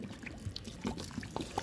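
Water poured by hand onto a rose plant, about a litre given, with soft splashing and trickling bursts spread across a short, quiet moment.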